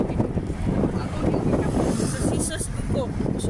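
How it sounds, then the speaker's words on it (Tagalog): Strong wind buffets the microphone on a boat at sea, a steady low rumble with water and hull noise under it, while people talk close by. "Suking hangin man."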